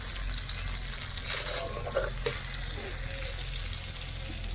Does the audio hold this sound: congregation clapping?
no